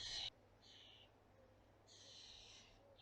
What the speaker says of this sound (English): starling. Can you hear it? Squawking at its parents to feed me.